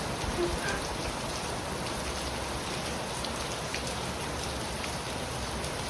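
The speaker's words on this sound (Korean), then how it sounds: "지금 비가 너무 많이 와서 제대로 도착할지 모르겠네요" Heavy rain pours steadily on a university campus, a dense, constant hiss of drops drumming on surfaces, close and loud throughout with no voices.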